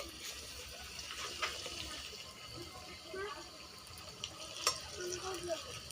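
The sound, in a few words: potato kachori dropped into hot oil, frying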